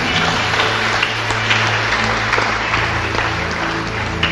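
A church congregation applauds for Jesus in a steady, dense wash of clapping that holds at an even level throughout, with a low hum of music or crowd noise underneath.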